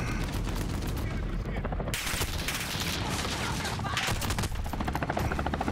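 Near-constant heavy automatic gunfire and overlapping shots fill a Call of Duty Modern Warfare multiplayer match, loud and dense from start to finish.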